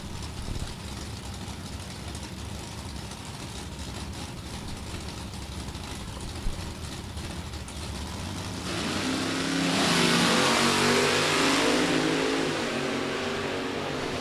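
Drag racing cars, including a Chevy Camaro, rumble steadily at the line, then engines roar louder as the cars launch down the strip, heard from a distance at an outdoor track.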